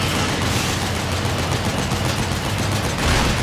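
Dense, continuous gunfire rattles nonstop as tank tires are shot at in Metal Gear Solid 4, a loud wall of rapid shots with no pauses.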